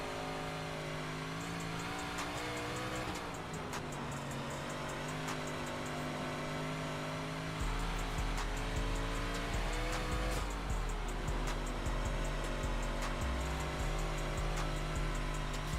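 Race cars roar around a track in Wreckfest, a continuous loud engine drone with shifting revs and tire squeal, with no voices.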